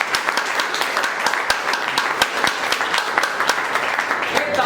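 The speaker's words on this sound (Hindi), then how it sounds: "एक बार अपने लिए जोरदार तालियां" A crowd at a leaders' meeting applauds warmly. Many hands clap in a steady, dense roar with crisp individual claps standing out, sustained for several seconds with little talk.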